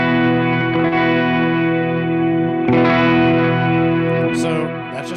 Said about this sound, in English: So that's just me breaking up my amp just with my hand.